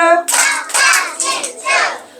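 Several bursts of group hand clapping, loud and close, over a brief tonal voice at the start.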